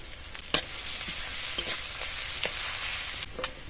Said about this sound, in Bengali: রান্নার জন্য কড়াই সাদা তেল দিয়ে দেবো। 2টো শুকনো লঙ্কা আর 3টে কাঁচা লঙ্কা চেরা, রসুন কুচি আর দিয়ে দেবো আদা কুচি